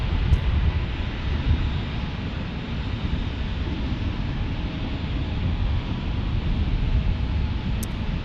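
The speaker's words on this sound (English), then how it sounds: "Alaska E-175 landing next." An Alaska Embraer E-175 jet comes in to land in San Diego with a steady low engine roar and some wind buffeting the microphone, continuous and fairly loud with no voices.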